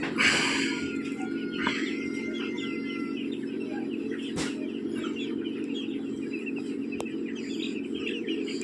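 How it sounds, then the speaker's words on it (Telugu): Five-day-old broiler chicks on a farm chirp continuously in a dense flock, with many thin overlapping peeps over a steady low hum and no voices. "మన ఫారంలో 5 రోజులు పూర్తి చేసుకున్న బ్రాయిలర్"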